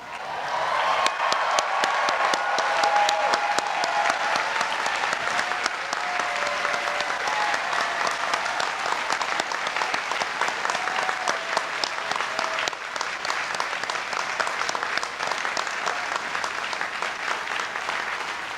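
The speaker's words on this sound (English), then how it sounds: "I ask that all parents and grandparents stand and be applauded." A large audience at a university commencement claps continuously for close to twenty seconds, a dense, even wash of applause.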